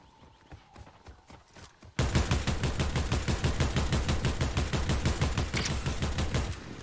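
MK rifle gunfire in Fortnite, a quick rapid burst of loud repeated shots after quieter footsteps, the steady rattling volley continuing for several seconds close up.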